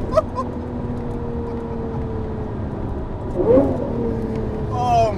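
A Lamborghini LP640 accelerates hard in first gear, its engine note rising steadily from inside the cabin as a loud, continuous roar that climbs in pitch and swells toward the end.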